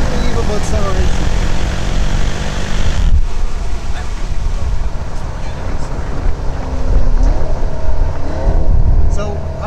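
A 2019 Jeep Trackhawk SUV accelerating hard, a loud, continuous engine roar heard from inside the cabin, with a shift-like dip partway through before the drone builds again.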